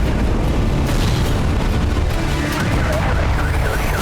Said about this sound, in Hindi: प्रचंड आसमानी प्रहार के बाद आया बारूदी भूचाल